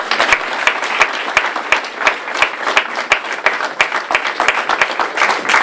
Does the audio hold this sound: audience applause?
yes